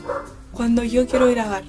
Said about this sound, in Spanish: Disculpen mi perro que se pone a ladrar siempre